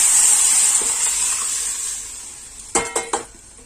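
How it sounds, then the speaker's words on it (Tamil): Tomato rasam mixture poured into a hot garlic and pepper tempering: a loud hissing sizzle that slowly fades, then three sharp metallic clanks of a pot or ladle near the end, with no voices. "இப்போ நம்ம தக்காளி காய்ச்சி வச்சுருக்க இந்த கலவையை ஊற்றிக்கலாம்"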